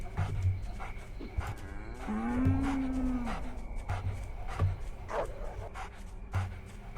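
Cattle moo in the video game Tin Star. One long, drawn-out low moo sits over a backdrop of game music and thumping sounds, with several shorter, fainter lowing calls around it and no talking.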